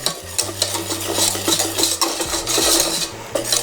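A utensil scrapes and stirs flour into melted butter for a lasagna roux in a pan, producing repeated close rhythmic scraping and clinking strokes with no talking.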